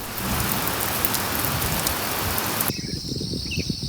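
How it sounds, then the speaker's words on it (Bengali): Steady heavy rain pours down in the hills of Sajek, Bangladesh, in a dense, even hiss, then abruptly drops to a lighter patter with dripping and faint insect chirps. "খানিক বাদেই বৃষ্টি হয়ে ঝরে পড়ছে"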